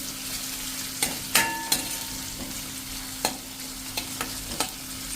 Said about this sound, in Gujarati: એને આપણે આ રીતે મિક્સ કરીને થોડુંક કૂક થવા દેશું